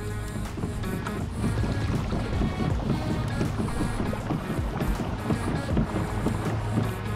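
A kayak driven by a Bixpy JET water propulsion motor at half speed, with a steady motor hum and water churning against the hull, close and continuous.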